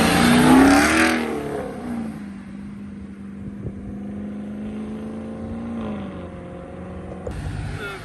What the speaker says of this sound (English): Got the first car leave in the Pro Charge Camaro.